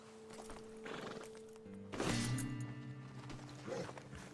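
Horses released from a wagon in the Red Dead Redemption video game: hooves clip-clop, a horse whinnies, and a harness or wagon creaks, with a steady tonal hum underneath and no talk.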